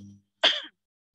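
A single short, sharp cough, close and clear, after a brief low hum fades out.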